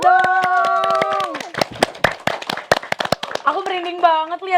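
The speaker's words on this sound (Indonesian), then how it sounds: "Tepuk tangan dulu dong." Studio audience clapping in sharp, uneven bursts, loud and close, with a sung or sustained voice over the start and speech resuming near the end.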